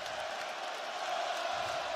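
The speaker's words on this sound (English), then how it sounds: "receiving a standing ovation for the hustle play" A basketball arena crowd gives a standing ovation for a hustle play, a faint, steady, distant roar of cheering and applause that holds evenly throughout.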